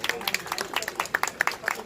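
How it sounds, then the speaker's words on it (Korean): Audience applause at an outdoor press conference in front of the Chinese embassy, a brief burst of scattered clapping with sharp irregular hand claps, moderately close. "다시 한번 뜨거운 박수 부탁드립니다"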